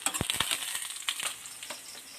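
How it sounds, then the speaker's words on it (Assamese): Dried fish fries in oil with a soft, fairly faint crackling sizzle, punctuated early by a few distinct spatula knocks and stirring scrapes. "এতিয়া মই তেলত দি দিছোঁ শুকান মাছখিনি এনেদৰে আৰু এনেদৰে মই লৰাই দিছোঁ"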